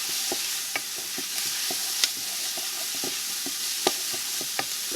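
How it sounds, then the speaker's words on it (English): Garlic sizzles and fries with collard greens in a pan, a steady hiss broken by repeated utensil clinks and scrapes from stirring, close and fairly quiet. "We're going to add just a little bit of garlic on in there."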